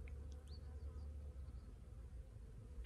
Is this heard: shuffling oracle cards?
no